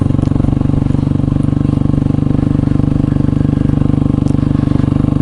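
Motorcycle fitted with studded tires cruising along a road, its engine a steady, loud, close drone with a rapid even pulse held for the whole stretch.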